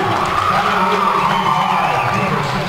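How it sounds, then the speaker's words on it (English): Condon-Wheeler fans roar in a high school volleyball gym after a 25-16 Big Sky Championship win against Dufur, a dense, steady wall of cheering and shouting that holds loud for the whole stretch. "There's the Condon-Wheeler crowd exploding at the"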